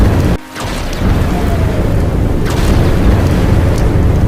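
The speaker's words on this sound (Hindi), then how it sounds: "अचानक जोरदार धमाके के साथ रामू का कच्चा घर ढह गया।" A loud, dense roar of crashing and rumbling fills the clip after a brief dip, sustained and close, as a mud house collapses with a loud bang during heavy rain.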